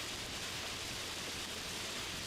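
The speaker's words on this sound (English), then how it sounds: "Literally can't hear anything aside from the rain right now." Steady, dense hiss of heavy rain pouring down during a severe storm in the Great Plains, even and unbroken, with no voices.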